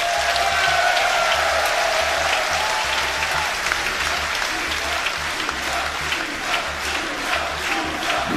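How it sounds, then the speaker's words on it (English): Dense applause and crowd noise fill a large hall at the Yu-Gi-Oh! World Championships 2025 final, a steady loud roar with a rhythmic low chant pulsing underneath throughout. "Love to hear the chanting from the crowd."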